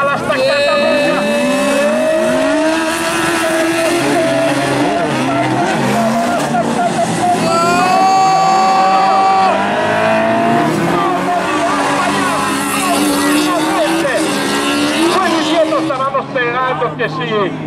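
Race cars on a track in a championship round brake hard and accelerate, engines rising and falling with tire squeals and skids, loud and continuous beneath an excited commentator talking throughout.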